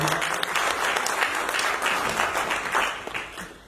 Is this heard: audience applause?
yes